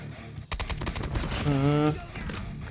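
Rapid gunfire from Call of Duty: Mobile with a KSP 45 loadout, a quick burst of sharp shots followed by a scoped shot, close and loud, with someone talking and a game tone over it.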